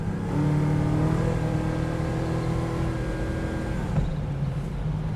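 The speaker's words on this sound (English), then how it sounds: "Now, this thing just burns the tires." A 1970 Chevrolet Camaro restomod revs hard and holds a loud, sustained engine roar while its tires burn, the tone steady and close with a slight dip near the end.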